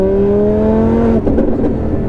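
An 850 bhp Audi R8 V10 Plus accelerates hard in fourth gear at around 4,000 rpm, a loud, rising engine drone heard from inside the car, with the tone breaking into a rougher, fluttering roar partway through.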